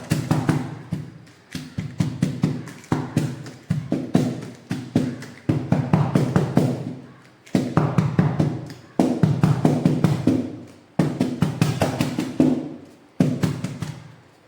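A tin of beetroot cake batter is tapped against a surface to knock out air bubbles, giving close, firm taps in quick runs of several at a time with short pauses between the runs.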